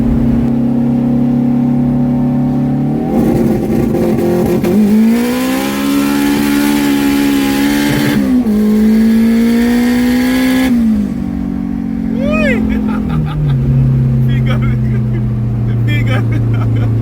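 A boosted Honda Civic with a K20 engine, around 300 horsepower, revs and accelerates loudly up close, its engine note climbing and dropping through shifts, with turbo chirps and spooling whistles near the end.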